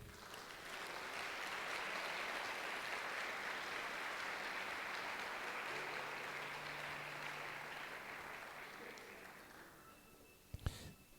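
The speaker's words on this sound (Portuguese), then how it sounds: "Se você crê, aplauda ao Senhor." A church congregation applauds together in a broad, even wash of clapping that swells quickly, holds steady, then fades out, followed by a couple of sharp knocks near the end.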